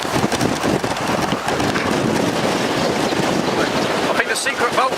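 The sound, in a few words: strong wind outside Cold War ROC bunker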